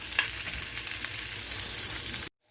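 Scotch bonnet pepper, tomatoes and other vegetables sauté in a hot pan, making a dense, close frying sizzle with light crackles that runs steadily, then cuts off abruptly; no speech.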